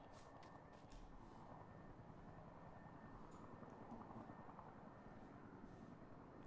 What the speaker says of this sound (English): I hear helicopters.